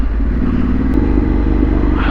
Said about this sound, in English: Loving that burble off the Black Widow exhaust, and that is the sound that I never get tired of.